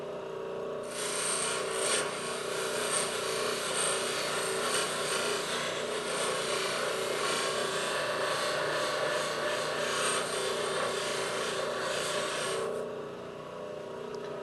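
An abrasive grinding wheel deburring a piece of hard tool steel in a machine shop, a continuous loud rasping grind that starts abruptly, holds steady for about twelve seconds over a motor hum, then stops.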